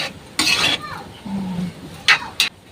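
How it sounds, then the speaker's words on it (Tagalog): A spoon stirs salt, pepper and a little sugar into sautéed coconut heart of palm (ubod ng niyog) in a cooking pot, giving a scraping swirl followed later by two sharp clinks against the pot. "Haluin po para na-mix na ang ating asin, paminta, at kaunting"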